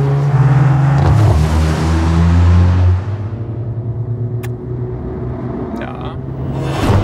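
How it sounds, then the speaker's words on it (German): Mercedes-Benz W176 A45 AMG with seven-speed dual-clutch gearbox doing a launch-control race start: loud held engine rumble on the brake, then a surging acceleration with rising revs and quick gearshifts, close and dominant. "ESP Sport, beide Schaltpedals ziehen, linker Fuß auf der Bremse, Race Start aktiv"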